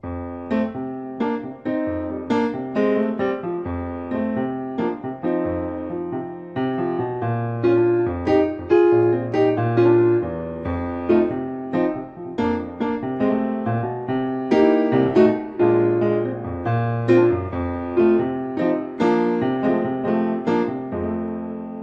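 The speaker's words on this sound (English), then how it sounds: "blues musicians would play this with straight 8s" A solo instrument plays a steady twelve-bar blues progression in even, straight eighth notes, moderately loud, with repeating bass patterns and no talking.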